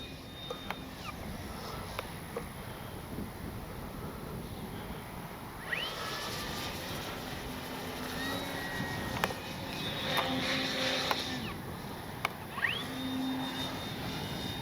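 Radio-controlled F4U Corsair warbird model airplane flying overhead, its engine drone rising and falling as it passes at moderate distance over a steady outdoor background, with no talking.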